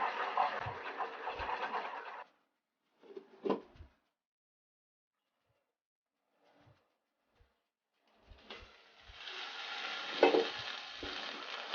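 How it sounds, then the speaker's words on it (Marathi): Masala paste sizzles and fries in a pan for a village-style chicken rassa, a close hissing burst that cuts out into near silence with a few faint knocks and a short splutter, then returns with stirring thumps. "मसाला भाजतोय त्याच्यामध्ये आपण हे मिक्सरचं थोडं पाणी होतं धुवून घेतलेलं ते आपण त्याच्यामध्ये घालूया"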